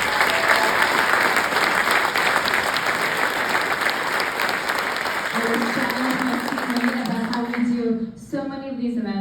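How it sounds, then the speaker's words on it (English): Loud, dense applause from an audience at a staff appreciation event fills the space steadily, thinning toward the end as a voice begins speaking over the fading clapping. "Let's give it a big round of applause."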